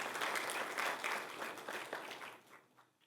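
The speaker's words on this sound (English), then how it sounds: "Let's give him a big round of applause, and Senator Moody." Audience applause at a commemorative event marking the 60th anniversary of Nostra Aetate, a full room clapping steadily and loudly before tapering off and fading toward the end.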